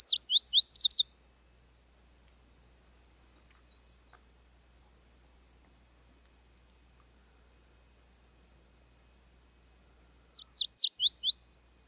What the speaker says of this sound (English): So that's the lazuli bunting.